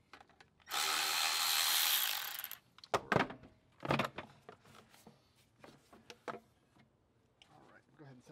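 A ratchet turning a 10 mm deep socket to loosen intake tube bolts on a car engine gives short clicking bursts and metallic taps, following a louder broadband burst near the start.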